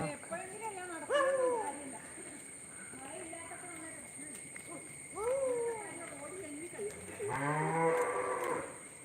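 A cow moos several times, long drawn-out calls close by, with a voice and other farm sounds in the background.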